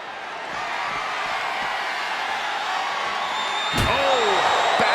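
A crowd at a live WWE wrestling event in an arena roars in a steady broadband wash that swells louder near the end, with a sharp slam-like impact.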